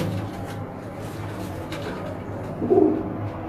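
Soft, low pigeon coos repeat in the foreground against a murmuring background, with one slightly louder call near the end.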